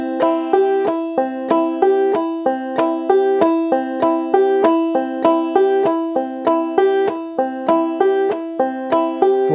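Banjo played in a drop thumb pattern, a steady, evenly repeating rhythm of bright plucked notes, clear and alone with no voices.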